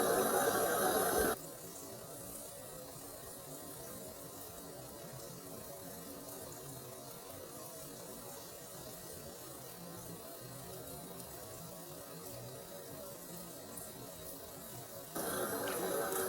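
Flour gets washed off hands under a running kitchen tap, a steady faint hiss of flowing water that holds for most of the stretch, with louder splashing at the start and end.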